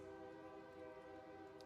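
A train passes with its horn sounding in one long, steady blare, moderately distant and fairly faint, with no talking over it.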